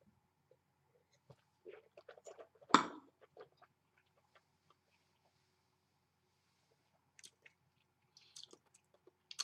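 Someone bites into a Ritz cracker during a wine tasting, giving one sharp crunch followed by a few small, soft crumbly chewing sounds, close and quiet in an otherwise near-silent room.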